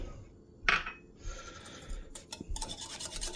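Egg whites whisked with a teaspoon of sugar in a bowl for fluffy Japanese pancakes, a faint close scraping and rattling of the whisk against the bowl, building into quicker strokes toward the end.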